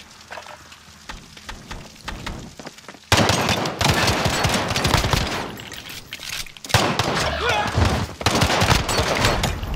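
Rapid bursts of gunfire from the video game Call of Duty: Modern Warfare, quieter scattered shots at first, then loud sustained automatic fire that pauses briefly and resumes, with no talking.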